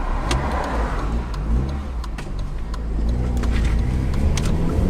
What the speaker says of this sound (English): Obviously it's a 4-cylinder K20 engine.